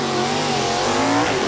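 Drag race cars launching side by side at an NHRA Division 3 event at Beech Bend Raceway: a small-block 1969 Camaro and a 200 cubic inch V6 1979 Malibu. Loud, steady engine roar with rising revs, close and continuous, with no talk over it.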